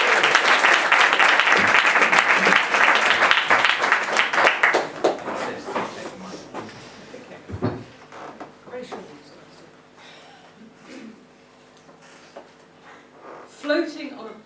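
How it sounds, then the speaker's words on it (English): Audience applause at a poetry reading in Leeds, loud and dense at first, then thinning into scattered claps and rustling before fading out. "A round of applause for Patricia"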